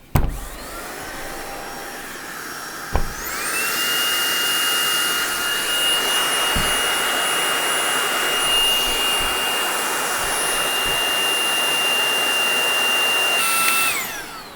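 A Tineco Pure One S12 Pro EX cordless vacuum switches on with a click and runs a steady, loud high-pitched whine while its self-cleaning mode clears the filter, then winds down near the end.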